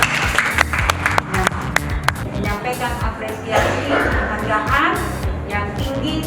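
Audience applause at a hotel restaurant event in Makassar, a burst of hand clapping from a gathered crowd over a few seconds, mixed with voices and shuffling.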